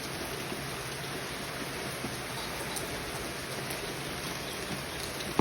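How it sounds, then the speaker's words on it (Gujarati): Heavy rain that has fallen since the previous evening hisses as a dense, even wash of sound, steady and unbroken throughout, with one faint knock at the very end. "કાલના શનિવાર સાંજે 9 વાગ્યાનો વરસાદ ચાલુ થઈ ગયો છે. હજુ સુધી ચાલુ જ છે."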